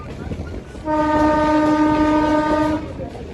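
A passenger train runs through the forest of Gir in Gujarat, its loud, steady multi-tone horn blaring close by for about two seconds over a rumbling background.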